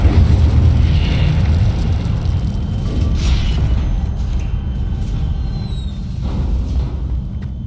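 Incendio fire spell cast in Hogwarts Legacy, a deep booming whoosh with a rumbling burst and a few smaller pops and crackles trailing off, loud and steady, with no talking.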